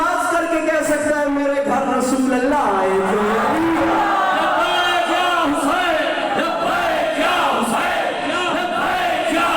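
At a Shia majlis commemorating Bibi Sakina and the martyrs of Karbala, a crowd raises a religious slogan chant, a loud sustained swell of many voices in unison shouting in long drawn-out calls.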